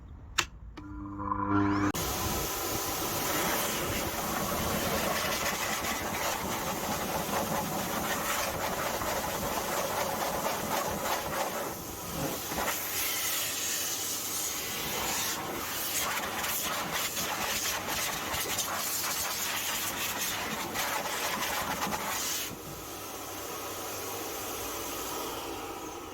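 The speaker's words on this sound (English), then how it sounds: "sorry for the noise," A loud, continuous rushing roar of a BLO AIR RS car dryer blowing water off car wheels close by for a long stretch, with slight shifts in pitch as it moves around.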